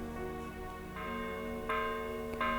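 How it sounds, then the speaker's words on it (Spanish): Church bells toll at San Juan del Duero, their ringing tones building as new strikes enter about once a second, moderately distant and fairly quiet, with no talk. "¿Oyes? Las campanas doblan."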